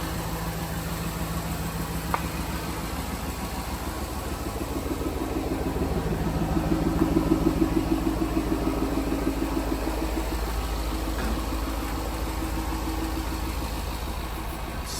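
A rebuilt 2018 Jaguar F-Type R idling, a low steady engine rumble heard close, swelling briefly midway before settling back.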